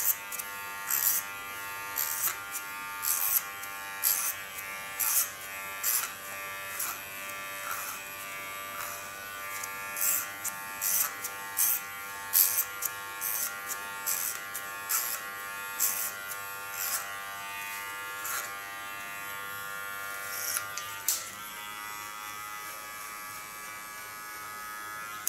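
An electric hair clipper buzzes steadily in close, contouring a woman's neckline during a haircut, the motor tone pulsing as the blades bite and lift away from the hair; no one speaks.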